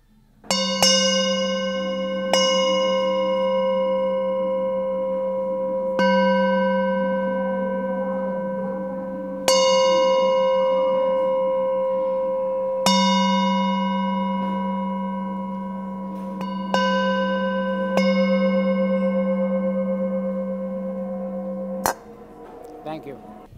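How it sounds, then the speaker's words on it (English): A meditation bell rung during a wedding ceremony, struck about eight times at slow, uneven intervals, each bright metallic tone ringing out and decaying over several seconds, loud and close. "a very brief meditation with the ringing of the bell"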